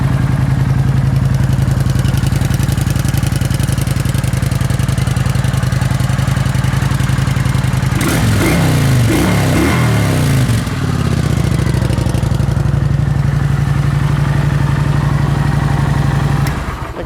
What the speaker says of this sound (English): 2009 Kawasaki Vulcan 900. Guys, this bike runs awesome.